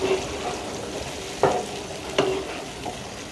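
Green hariyali chicken gravy stirred in a pan: a few spaced scrapes of the spoon over a continuous soft sizzle, close and moderately quiet.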